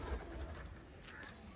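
Sialkoti pigeons coo softly in a few low, faint calls against quiet background hiss.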